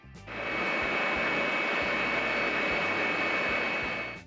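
A wind tunnel runs with 3D-printed test parts mounted inside, a loud steady rushing roar with a constant high whine that rises quickly and holds evenly throughout.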